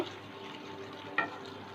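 Potol pasinda, a Bengali pointed gourd curry, simmers in a pan with a soft, steady bubbling sizzle and one faint clink near the end.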